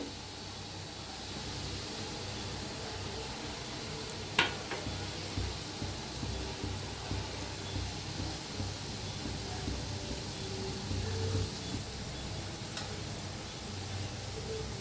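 Boondi batter deep fries in hot oil in an iron wok, a steady, even sizzle and hiss running throughout, with an occasional light clink of a spoon.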